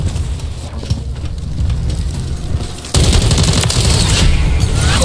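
Loud continuous automatic gunfire in Modern Warfare 3 from a gun with a 20-round magazine, rattling bursts that jump sharply in intensity halfway through and stay dense and close to the end.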